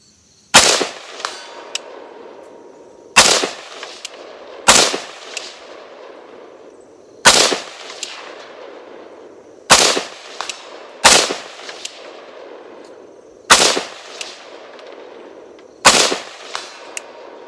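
Rifle shots with AAC ammunition fired at a 200-yard range, about eight sharp, loud cracks spaced every one to three seconds, each followed by a short ringing tail, with no talking between them.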